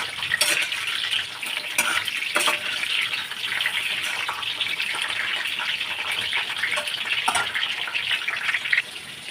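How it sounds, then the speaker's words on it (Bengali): Pointed gourd fries in hot white oil with a steady, loud sizzle, continuous throughout, with occasional sharp crackles and stirring clicks; no voices. "এবার আমি পটলগুলোকে তুলে দেবো পটলগুলোকে একটু ভেজে নেবো"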